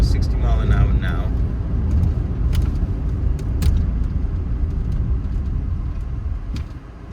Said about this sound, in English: what we can do is we can give them a little try, because we're at 60 miles an hour now